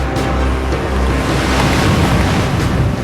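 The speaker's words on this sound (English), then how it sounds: "Seas like this, and far worse, were typical of those experienced by the North Atlantic convoys and their crews." Rough North Atlantic sea surges and crashes in heavy, continuous waves, with strong wind buffeting the microphone throughout and a few brief splashes rising above the steady roar.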